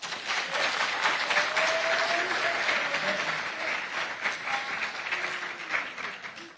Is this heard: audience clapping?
yes